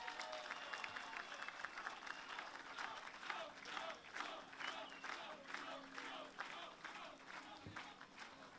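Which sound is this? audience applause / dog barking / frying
audience applause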